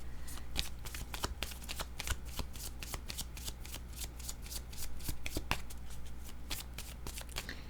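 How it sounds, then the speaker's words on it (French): Two decks of playing cards being shuffled together, a run of crisp, rapid riffling bursts and flicks repeating steadily at close range, loud and clear with no speech over them. "je suis en train de mêler deux jeux de cartes ensemble"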